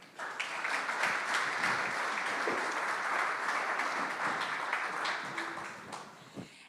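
Audience applause steadily fills the hall in welcome of a panelist at a thoroughbred racing industry panel, a dense, even clatter of many hands that holds for several seconds before tapering off near the end.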